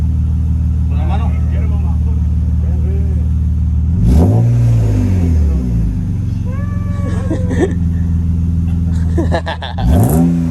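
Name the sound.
BMW E36 engine revving with newly installed exhaust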